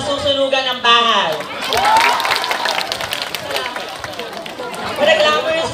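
Audience at a gay beauty pageant fiesta breaking into clapping and cheering, lively applause mixed with crowd chatter, with voices talking and calling out over it.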